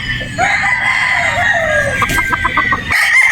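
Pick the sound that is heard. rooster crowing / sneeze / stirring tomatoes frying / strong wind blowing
rooster crowing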